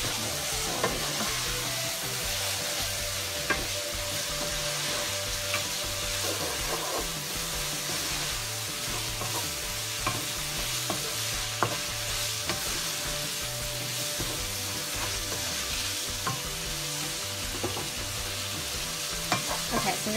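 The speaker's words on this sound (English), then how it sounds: "I'm going to let this just saute it for a little bit, let the mushrooms cook up a little, let the tomatoes get a little more cooked up and softened" Meat sauce with mushrooms and fresh tomatoes sautés in a pan, giving a steady loud sizzle with occasional stirring scrapes throughout.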